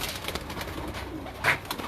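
Breeder pigeons in a fancier's loft cooing softly amid faint background noise, with one brief louder call near the end.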